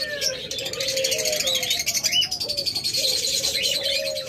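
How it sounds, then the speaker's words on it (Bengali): Lovebirds, a breeding pair, chirp and tweet in a rapid run of bright, close calls with short trilled phrases, loud and continuous, with no speech. "Master pair lovebird."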